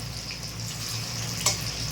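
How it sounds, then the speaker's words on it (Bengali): Eggs fry in oil in a pan with a low, continuous sizzling hiss, fairly quiet and close, broken once by a brief light clink partway through. "তো এই দেখো ডিমগুলো কিরকম ভাজা ভাজা করে নিয়েছি,"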